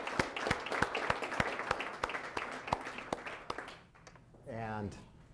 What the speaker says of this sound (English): let's start with just giving ourselves a round of applause for an amazing feat